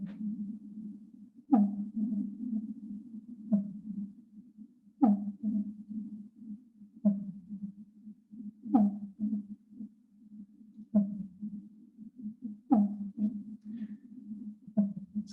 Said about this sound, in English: So this is a fin whale.